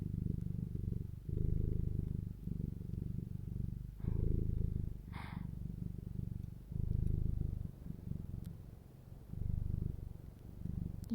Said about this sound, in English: So first I will do Morgana purr.